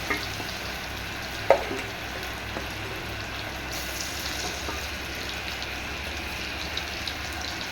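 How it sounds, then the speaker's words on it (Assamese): Marinated chicken pieces frying in a hot wok, a continuous low hiss and sizzle with a single sharp clink early on, steady and moderately quiet throughout. "এই মেৰিনেট কৰা মাংসখিনি এটুকুৰা এটুকুৰাকৈ ভাজি ল'ম"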